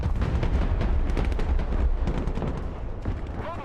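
Artillery and gunfire in the military strategy game Broken Arrow during an airbase mission: dense rapid bursts and rumbling blasts pound steadily for several seconds, then ease slightly toward the end.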